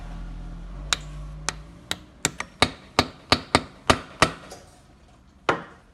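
A Malossi primary gear shaft being tapped into place on a SYM Jet4R scooter, a series of about a dozen sharp, close metallic knocks in an uneven rhythm, each ringing briefly before fading.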